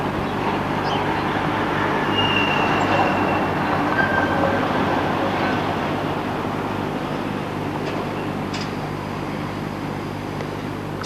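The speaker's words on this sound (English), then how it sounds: "It's another number 4 arriving." A Stuttgart tram on line 4 pulls in along a street track in 1989, a loud, steady rolling rumble of wheels on rail with a few brief high squeals, no talk.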